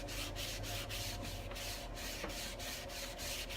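A cotton rag buffs Dixie Belle Grunge Gray wax on painted wood furniture, making steady, rhythmic rubbing strokes about three per second, close and continuous, with no talking.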